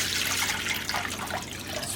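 Vegetable stock poured into a pot on a gas stove for cactus soup, a steady splashing liquid pour heard close and continuous with no talking.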